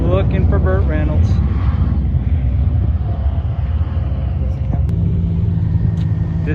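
A Jeep Cherokee drag racing at Tucson Dragway roars with a steady, loud engine drone and rumble, pitch sweeping as it accelerates, with a voice talking over it.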